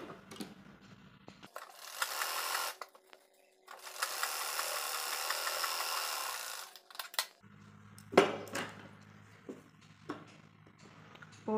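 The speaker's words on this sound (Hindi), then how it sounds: "इस पट्टी को हम नीचे की साइड में रखकर सीधी सिलाई कर लेंगे" A sewing machine runs straight stitches along a 4-inch fabric strip for a baby girl's top, two short bursts of fast whirring separated by quiet pauses, with light handling clicks afterward.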